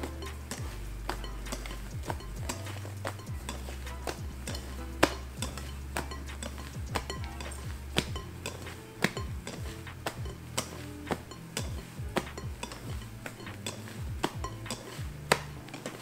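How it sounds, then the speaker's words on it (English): Wire whisk beating French meringue in a bowl for a strawberry chiffon cake, a steady run of quick clinking strokes against the bowl, close and continuous, with no talk. "with the whisk like that until it looks smooth and shiny again"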